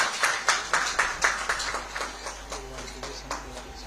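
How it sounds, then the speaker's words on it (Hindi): Rhythmic applause from an audience at a police bravery award ceremony, steady synchronized claps about twice per second that gradually soften, heard close with no talk. "एक बार जोरदार तालियां।"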